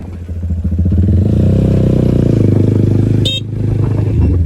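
A racing motorcycle engine on the road, a loud, close, steady throbbing drone that holds for several seconds, with a brief sharp clatter or horn-like burst near the end.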